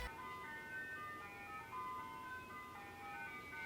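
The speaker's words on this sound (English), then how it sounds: "Ice cream truck, go away! Nobody wants you." An ice cream truck passing outside plays its tinkling chime melody, faint and distant, looping steadily over quiet background noise.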